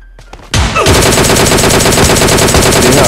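Shotgun fire in PUBG Mobile Lite opens abruptly after a quiet start, then keeps going as loud, close, rapid repeated blasts to the end.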